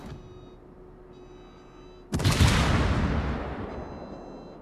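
A naval artillery shell from a World of Warships battle strikes a ship's citadel with a single sudden, heavy boom over quiet background hum. A long rumbling decay follows.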